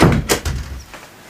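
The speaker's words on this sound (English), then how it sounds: "Let me just close the door." A door being closed indoors, a few close thuds and a knock in quick succession, then fading quiet.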